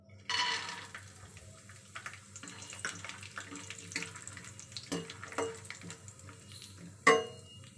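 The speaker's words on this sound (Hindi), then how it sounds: "मूंगफली दानों को हम गोल्डन ब्राउन होने तक फ्राई करेंगे।" Peanuts fry in hot oil in a kadai, a soft continuous sizzle punctuated by scraping stirs and a few sharper metallic knocks, close and moderately quiet.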